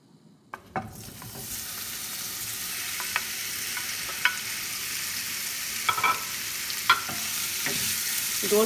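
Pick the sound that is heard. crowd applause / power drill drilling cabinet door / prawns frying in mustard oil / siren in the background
prawns frying in mustard oil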